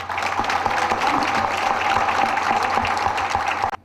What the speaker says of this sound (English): I think we should start with a round of applause to them